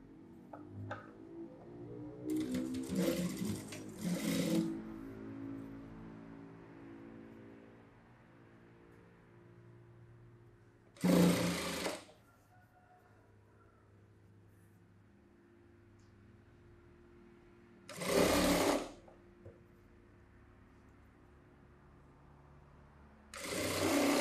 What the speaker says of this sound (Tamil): இந்த மார்க்கில் வச்சுட்டு அப்படியே தையல் போடுறேன்.